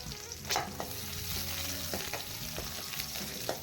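Oil sizzles and crackles steadily as fennel seeds and small onions fry in a pan, with occasional scraping and stirring clicks; no talking.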